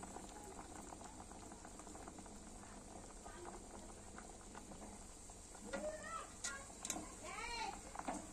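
Tubers boil in water in a pot, a steady bubbling simmer throughout, with faint animal or other calls and brief chirps near the end.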